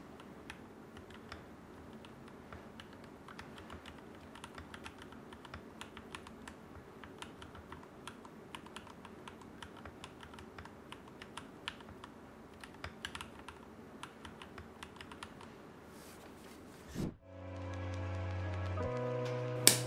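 Steady, rapid keystrokes on a computer keyboard during a Monkeytype typing speed test, close and fairly quiet, running continuously before ending abruptly as a tonal chime-like sound takes over near the end.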